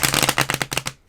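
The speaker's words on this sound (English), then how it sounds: "I'm going to shuffle again because that shuffle wasn't very good." Tarot cards being shuffled by hand, a quick run of about a dozen crisp riffling snaps in close succession, loud and near, ending abruptly in silence.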